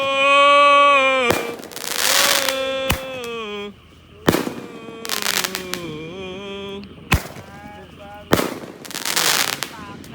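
Roman candle firecrackers (mercon) set off in a village before dawn to wake people for sahur, a series of sharp loud bangs and crackling bursts spaced across the clip, with whistling tones and voices in between.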